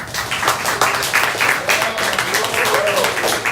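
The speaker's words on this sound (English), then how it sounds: "A big round of applause for Kana on the drums." Audience applause at a kirtan festival for the drummer, a steady crowd clapping under a voice and faint sustained music throughout.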